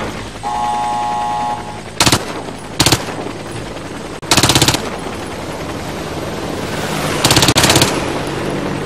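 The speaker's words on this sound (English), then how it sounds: "As an engineer, your primary weapon is a submachine gun. It's easy to handle and effective at medium range." Submachine gun fire in the Warface first-person shooter, an engineer's weapon on a street training course: four short, loud bursts at irregular spacing over steady game ambience.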